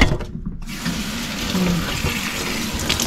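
Tap water runs steadily from a faucet to water house plants such as orchids, a continuous close splashing flow throughout with no talking.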